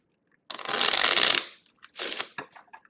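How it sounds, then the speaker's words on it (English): A small deck of cards is shuffled by hands wearing many rings: one close, crisp riffling burst of about a second, a brief pause, then a shorter second shuffle with a few soft taps. "Shuffling a small deck of cards with this many things on your hands."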